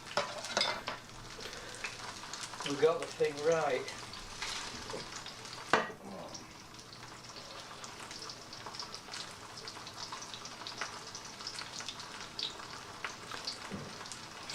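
Fish frying in oil in a pan at home, giving a steady, even sizzle and crackle throughout, with brief stirring or clattering noises near the start and a short spoken remark.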